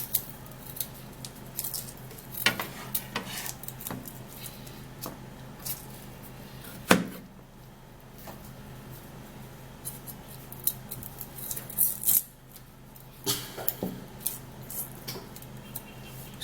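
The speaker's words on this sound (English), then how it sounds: "so we're going to be peeling the garlic." Garlic cloves being peeled by hand in a kitchen, with dry papery crackles, scratchy rustles and a few sharp snaps scattered irregularly, close and fairly faint.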